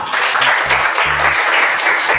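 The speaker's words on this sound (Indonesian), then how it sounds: "Kasih tepuk tangan dulu ya" Classroom applause at an elementary school, a broad steady wash of clapping hands that runs through the whole stretch, with a low musical tone pulsing underneath at intervals.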